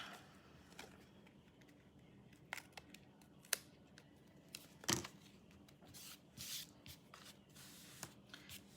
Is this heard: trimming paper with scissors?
yes